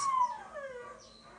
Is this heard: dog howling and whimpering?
yes